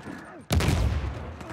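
Gunfire bursts out abruptly in an Uncharted 4 multiplayer survival match, a loud broadband blast followed by a dense, sustained rattle of shots with faint background sound before it.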